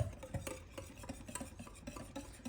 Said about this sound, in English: now we're just gonna get this all whisked up